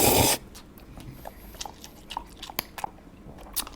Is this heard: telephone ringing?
no